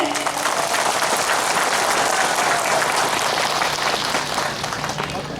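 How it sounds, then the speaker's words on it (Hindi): A large audience at a Bharatiya Janata Party event claps loudly and continuously for the chief minister, making a dense, even roar of applause throughout. "कंजूसी मत करो ताली मारने में।"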